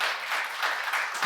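Brief burst of applause from a church congregation during a seminar, a dense, even wash of many clapping hands lasting just over a second.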